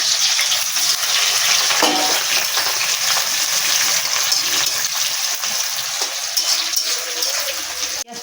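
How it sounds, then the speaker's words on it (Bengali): Onions frying in hot oil left in a kadai after fish was taken out, a loud, steady hissing sizzle with a few utensil clinks and stirring scrapes, heard close and alone. "সেই কড়ার তেলেতে এবার আমি পেঁয়াজগুলো দেবো।"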